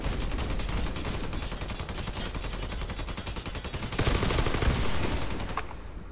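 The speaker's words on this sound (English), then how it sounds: "A fucking turret." A turret in the Pripyat map of a video game fires a long, rapid burst of evenly spaced shots, loud and close, swelling louder near the end before cutting off.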